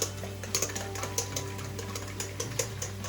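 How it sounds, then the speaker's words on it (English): A seasoned mixture with salt and pepper is whisked in a bowl, giving quick, regular clicking taps of the whisk against the sides over a low steady hum, with no speech. "Put some salt and pepper for seasoning. And whisk it again."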